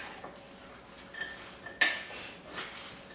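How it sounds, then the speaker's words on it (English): Vegetable soup with celery and canned tomatoes being stirred in a pot, with faint scraping and light clinks of a utensil against the pot and one sharper metallic knock midway, heard alone at close range. "Give that a little mix."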